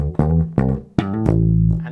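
A funk slap bass riff with pulled slap notes, loud and close: a handful of sharp percussive attacks, each ringing into sustained low notes, with the last note held and fading out alone.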